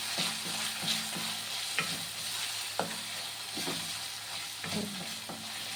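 Meat with pounded spices fries in a pan with a steady close sizzle, broken by scattered clicks and scrapes from stirring; no voices.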